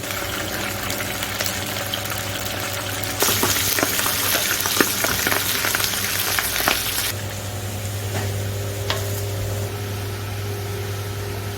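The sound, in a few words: fish frying in oil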